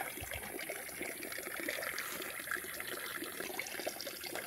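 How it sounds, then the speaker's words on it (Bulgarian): Water runs steadily from a mountain fountain along a hiking trail, a continuous trickling splash heard close and fairly faint, with no voices. "Чешмата работи."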